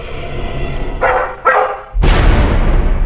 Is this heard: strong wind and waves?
no